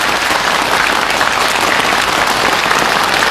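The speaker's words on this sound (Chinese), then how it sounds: "让我们掌声欢迎毕派小生杨同华。" A theatre audience gives loud, dense, sustained applause to welcome a Bi-school Yue opera xiaosheng performer on stage, the clapping steady and close throughout.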